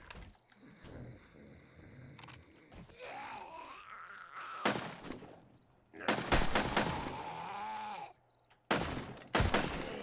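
Several loud, sharp bursts of gunfire in the zombie survival game 7 Days to Die, in short clustered volleys separated by quieter stretches with growling creature noises and a rising groan.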